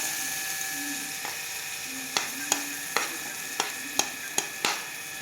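Chopped onion, garlic and ginger frying in a pan give a steady, close sizzle, punctuated by several sharp spatula taps against the pan in the latter half.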